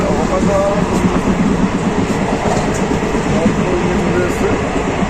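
The Uttarbanga Express from Sealdah to New Coochbehar rumbles along steadily, with a continuous dense roar of wheels and carriage noise heard from on board.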